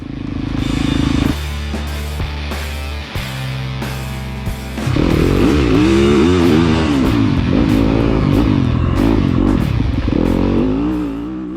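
A Yamaha YZ250FX dirt bike rolling slowly down pit road at a race track, its four-stroke engine putting along and then revving louder with changing throttle, close and strong.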